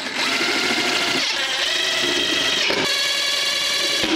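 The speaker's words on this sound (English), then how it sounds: "now it's time to screw in the rods to this, and we're gonna be using these A screws" Rods being fastened into a Clevahome cat tree with screws, a steady, close mechanical whirring that runs without a break for several seconds, with no talking.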